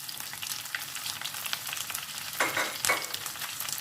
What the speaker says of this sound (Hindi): और इसको अच्छी तरह से फ्राई करेंगे जब तक मिर्चें भी इसके साथ साथ फ्राई हो जाएंगी हमारी।